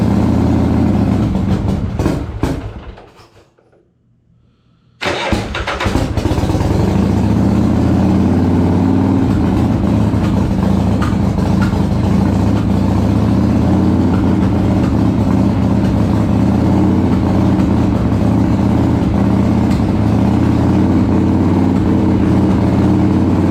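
A 1981 Harley-Davidson Shovelhead Lowrider FXS-80 engine is revved, dies back briefly, then restarts and runs as a loud, steady, close rumble that fills the rest of the clip.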